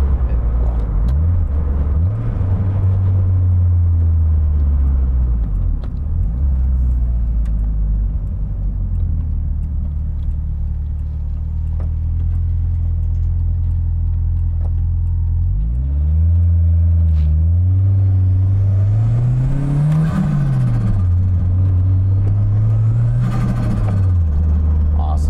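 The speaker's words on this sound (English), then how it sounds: "It's inline four, but you hear so much more turbo than anything else" Toyota MR2 fitted with a turbocharged inline-four minivan engine, heard up close as a loud, deep rumble that holds steady, then rises and falls through several revs, with turbo whoosh over the engine note.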